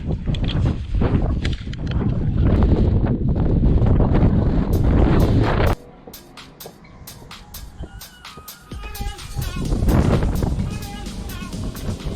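Gusty wind buffets the microphone on a high mountain summit, Quandary Peak at 14,265 feet, roaring loudly for the first half, then easing before another strong gust, with a person talking intermittently.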